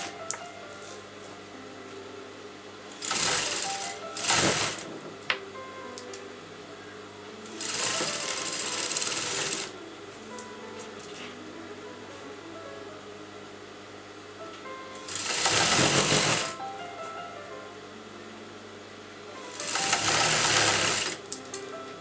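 A sewing machine stitching kurta fabric runs in four distinct bursts of rapid whirring, each lasting roughly one to two seconds, separated by quiet pauses while the fabric is repositioned.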